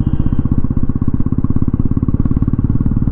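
A Royal Enfield Bullet Classic 350 BS6 motorcycle runs with its single-cylinder engine, loud and close, producing a steady, rapid thumping beat throughout with no voices.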